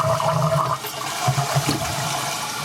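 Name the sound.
toilet flushing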